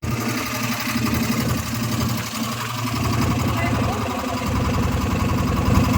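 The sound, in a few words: boat engine running on a river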